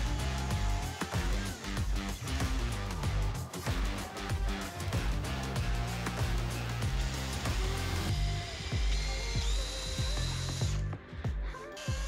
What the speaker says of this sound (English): here I'm using the sander